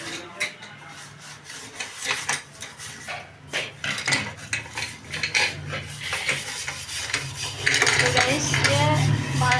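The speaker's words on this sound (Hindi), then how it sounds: "तो यहाँ पे वो लगी है बर्तन धोने में, और इतने सारे बर्तन हो रहे हैं" Dishes and cutlery are washed at home, steel utensils clattering, scraping and clinking in a steady busy rhythm close by, with a voice speaking over the clatter.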